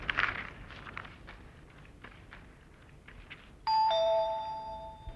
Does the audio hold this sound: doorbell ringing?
yes